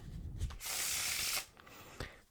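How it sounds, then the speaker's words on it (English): Playing cards weaving together in a close-up shuffle: a soft papery crackle, then a dense, steady riffling hiss lasting nearly a second, followed by a few light card taps, with no talking. "look how the cards just weave in one by one like this"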